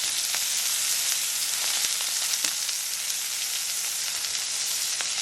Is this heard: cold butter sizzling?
yes